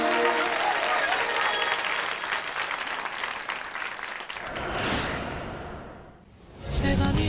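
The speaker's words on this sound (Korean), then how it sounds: "큰 박수 부탁드리겠습니다." An audience at a Korean music awards ceremony claps loudly, then the applause fades and a swooshing transition sound rises and dips before another burst of sound.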